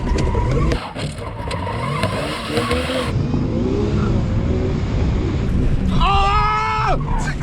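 A Jeep engine revs hard in neutral, the pitch climbing and falling in repeated surges, loud and close, with wind buffeting and a sharp rising whine near the end.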